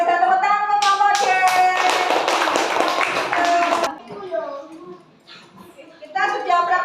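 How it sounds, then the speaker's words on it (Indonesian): Elementary school class clapping together in a classroom for a student group, a burst of quick rhythmic claps mixed with children's voices, then a pause with talking before more clapping and chatter resume. "Tepuk tangan untuk kelompok D."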